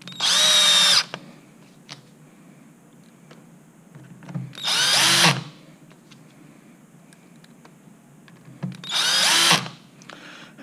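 A power drill on a low torque setting drives screws to reassemble a top box housing in three separate whirring bursts of about a second each, with quiet handling noises between them.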